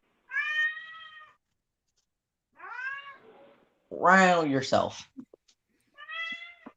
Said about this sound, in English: My cat is being loud.